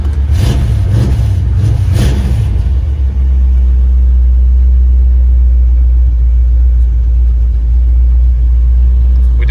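A 1971 Chevrolet Nova SS engine cranks and fires with a few rough bursts, then settles into a loud, steady, deep idle rumble close up, with no one talking.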